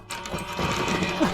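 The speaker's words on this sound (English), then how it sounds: "this is our little noise machine thing" A short whirring, mechanical buzz from a Minecraft redstone noise machine in the game, a steady rattling hum lasting about a second at moderate level.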